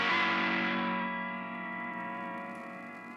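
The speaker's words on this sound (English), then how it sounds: "An authentic lo-fi VHS and VCR emulation plugin" A sustained, droning musical tone processed through a VHS tape emulation plugin, with a warbly, degraded lo-fi character, slightly distorted and washed in echo, fading gradually.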